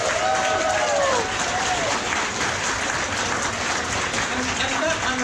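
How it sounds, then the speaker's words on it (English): Audience applause at an alumni reunion gathering in Sydney, continuous crowd clapping at a steady level with some voices and cheers mixed in. "Can I get everyone to give them a round of applause,"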